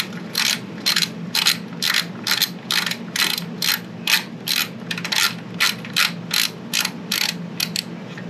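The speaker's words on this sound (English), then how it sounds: "So just 2 12mm nuts. We'll get those loosened and removed" A hand ratchet clicks in about sixteen regular bursts while loosening two 12mm nuts on a Subaru WRX STI front strut, a close, crisp repeating pawl rattle over a low hum.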